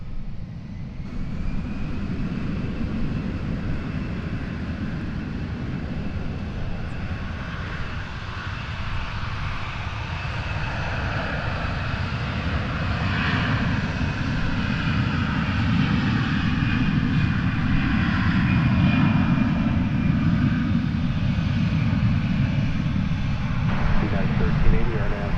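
An American Airlines jet rolls for takeoff on runway 36 right at DFW Airport, a broad steady engine roar that slowly swells and holds for the whole stretch, heard from a distance outdoors with no talk over it.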